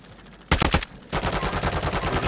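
Call of Duty Warzone 2.0 gunfire: a quick cluster of sharp, loud shots, a brief pause, then a sustained rattling stream of rapid automatic fire that runs on steadily.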